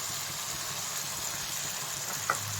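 Chicken pieces drop into fried spice paste for a Bengali country chicken curry, giving a steady soft sizzle and hiss with a small clatter near the end.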